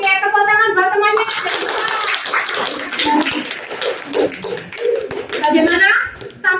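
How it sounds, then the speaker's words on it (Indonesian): Classroom of students clapping for a classmate, a scattered burst of hand claps following a teacher's voice, with talking resuming at the end. "Oke, tepuk tangan buat temannya."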